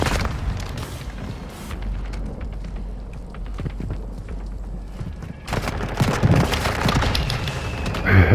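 A grenade blast in Warzone 2 goes off amid heavy gunfire, with a loud explosive burst and rumble near the midpoint and rapid shots before and after, close and intense.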